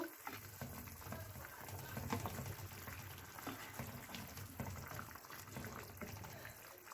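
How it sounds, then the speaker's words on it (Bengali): Fried snakehead fish pieces go into a simmering curry, giving a steady sizzling, bubbling hiss with soft stirring and liquid sounds throughout, close and moderately loud with no talking. "তো এখন আমি আমার তরকারির মধ্যে আমি যে মাছগুলো ভেজে রেখেছিলাম মাছগুলো অ্যাড করে দিব"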